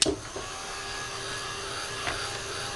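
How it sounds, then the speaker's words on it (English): A steady, loud whooshing hum of a hot air dryer blowing continuously on glue in an art journal, with a brief click at the start. "Now let me get the dryer again."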